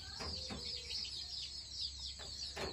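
A desi hen clucks faintly in a few short bursts with her chicks nearby, under a constant background hum and high hiss, without speech.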